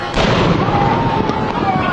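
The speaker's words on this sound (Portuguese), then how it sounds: "O último ato da comemoração oficial do bicentenário foi uma salva de tiros de canhão disparados do Forte de Copacabana." A cannon salute fired from Copacabana Fort in Rio de Janeiro for the official bicentennial celebration, heard as a loud, booming report with rumbling echo, mixed with crowd noise.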